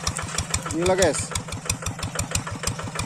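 Tractor engine idling at the foot of an extreme slope by a ravine, a steady rhythmic diesel chug close by with people talking over it.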